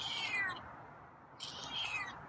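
A feral cat gives two drawn-out meows in a row, faint and close, alone in a quiet room.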